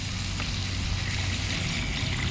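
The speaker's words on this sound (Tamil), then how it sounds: "இப்போ நம்ம அந்த புளி தண்ணியை சேர்த்துக்கலாம்." Tamarind water is poured into a pan of crab curry where eggplant and potatoes have been cooking in oil, giving a steady close splashing pour with a faint underlying sizzle.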